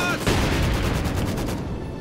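German mortar rounds and gunfire in the World War II strategy game Company of Heroes 2, a dense, loud run of overlapping blasts and shots filling a brief moment of battle.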